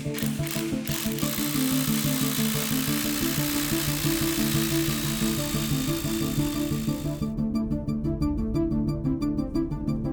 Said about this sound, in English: Now you can drill the spots and insert the plugs.